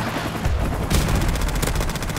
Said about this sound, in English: but I got him with my nice Mac-10